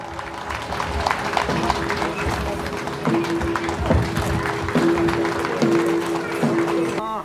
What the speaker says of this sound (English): आप सभी लोग एक बार जोरदार तालियों से इनका स्वागत करें।